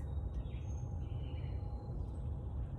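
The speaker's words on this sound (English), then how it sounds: "you can hear the bird sounds that are happening in the background" Wild birds sing faintly in a backyard garden in Rye, New York, with soft thin chirps and whistles drifting over a steady low outdoor rumble.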